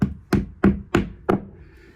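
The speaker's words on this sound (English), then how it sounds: "take the anchor and a hammer and gently tap it into place." Five evenly spaced hammer taps knock sharply up close, gently tapping a wall anchor into place, a steady rhythm of light blows on a hard surface.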